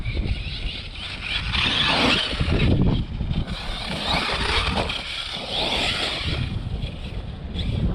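An Arrma Kraton RC truck is driven hard nearby, its electric motor whining and surging as it accelerates and slows again, with rough rustling from the ground and no talking.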